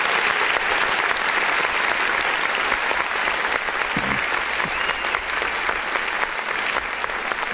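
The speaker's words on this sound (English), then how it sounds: "I'm gonna hit that clap" Sustained applause from a clap button plays steadily and evenly for several seconds at a constant level, a canned crowd clapping with no voice on top.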